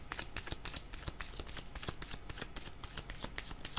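Tarot cards are shuffled and drawn in quick, rhythmic riffling bursts, close and crisp but fairly quiet, with no speech over them.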